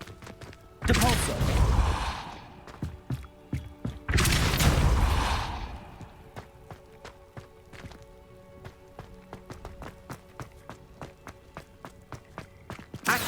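Two loud, booming Depulso spell blasts in Hogwarts Legacy burst out a few seconds apart, each with a whooshing decay, followed by a steady string of quick light footsteps.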